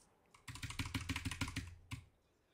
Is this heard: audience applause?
no